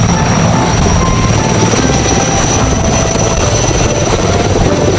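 A toy helicopter gives a loud, close, continuous whirring buzz that holds steady for the full five seconds, with no talk over it.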